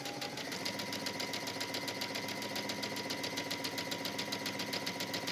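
A sewing machine runs steadily while stitching the hem of a wrap dress, a close, even mechanical whir with rapid rhythmic needle chatter that holds unbroken throughout.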